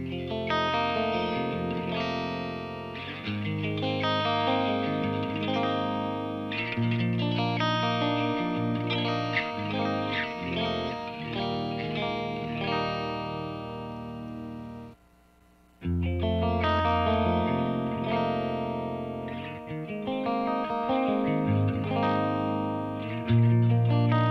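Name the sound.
electric guitar through Engl Savage amp clean channel, effects off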